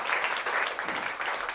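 Applause from an audience at a live jazz trio concert at Uus Laine in Tallinn, Estonia: steady, dense clapping that runs for the whole short stretch at a moderate level.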